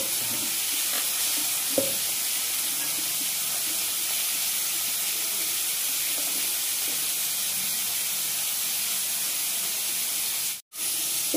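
Potato pieces frying in hot oil until reddish, giving a steady, close sizzle and hiss that runs almost unbroken, with a brief gap near the end.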